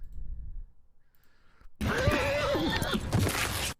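Horse from the TV series Game of Thrones, a loud whinny with a rising and falling cry that bursts in after quieter rumbling, close and prominent.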